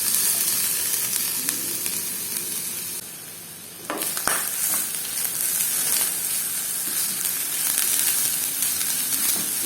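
Grated coconut and sugar roasting in ghee in a pan, stirred, give a steady, close sizzle and frying hiss with scraping stir strokes; the sizzle briefly dips, then resumes.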